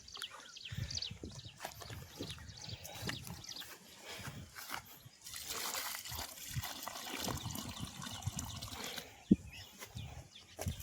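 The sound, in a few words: pouring water on Ashoka tree saplings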